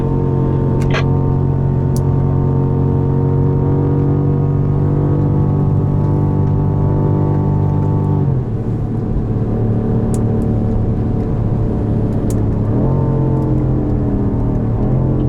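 625 hp all-wheel-drive BMW M5 Competition on a hot lap around a racetrack with stability control off, its engine roaring loud and steady from inside, with a sharp gear change partway through and continued hard acceleration.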